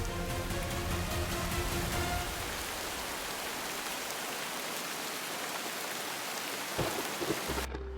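Heavy rain pours steadily and close, with a deep rumble of thunder rolling under it early on and a sharp crack near the end, no voices.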